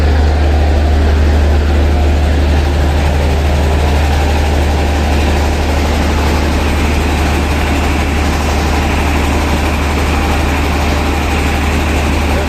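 The engine of the Al Safin Sattar Khan passenger river launch on the Ghosherhat route runs as a loud, steady, deep drone with a constant low hum throughout, and no voices are heard.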